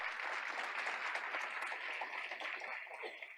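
Audience applause at a school board of education meeting, a steady wash of many hands clapping, fairly distant and soft, with no voices over it.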